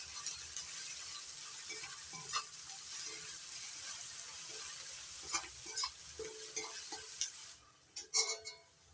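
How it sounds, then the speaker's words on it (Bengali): Salted onions fry in oil with dried red chillies, making a low, steady sizzle broken by repeated spatula scrapes and clicks. The frying fades near the end, leaving a few louder scraping knocks. "পেঁয়াজটা এখন লাল করে ভেজে নেব।"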